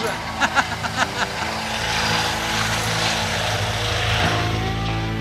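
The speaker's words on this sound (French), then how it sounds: "Et puis, à coup d'hélicoptère." Steady whirring rotor and engine drone of a helicopter, loud and sustained, with a few brief thumps at the start.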